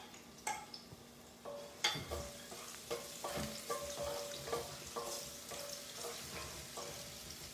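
Two tablespoons of minced garlic hit hot oil in a pan for Indo-Chinese honey garlic paneer, crackling with a busy, steady sizzle close by while a spatula clicks and taps against the pan at irregular intervals, with no talking.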